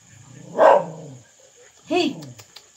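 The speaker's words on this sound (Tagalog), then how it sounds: "ingay naman yung aso ko" A pet dog giving two separate barks roughly a second apart, close and moderately loud against a quiet background, with faint talk nearby.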